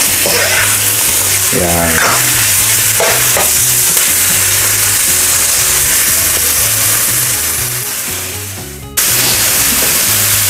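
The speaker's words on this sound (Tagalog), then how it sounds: "Lutuin lang po natin ang ating beef tenderloin na mga 5 to 7 minutes." Beef tenderloin fries and sizzles steadily in a pan, loud and close, with a constant hiss and occasional clatter of stirring, while a voice speaks briefly over it.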